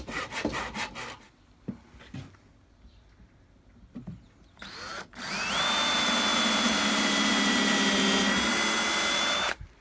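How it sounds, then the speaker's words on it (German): Handsaw cutting through a piece of old furniture wood for a birdhouse: a few scattered knocks and scrapes, then a loud, continuous rasping saw stroke close by that lasts the last several seconds, with no talking. "Und dann sägt man ab."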